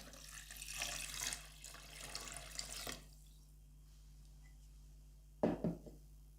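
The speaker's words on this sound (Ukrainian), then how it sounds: "Заливаю сало водою, а не холодна вода." Tap water pours over pork fat (salo) in a container for brining, a steady splashing stream for a few seconds, then quiet and a brief close clunk near the end.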